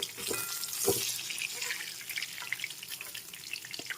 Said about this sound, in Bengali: প্রথমেই আমি মাছগুলো তুলে তেলের মধ্যে পটলের টুকরোগুলো দিয়ে আগে ভেজে নেবো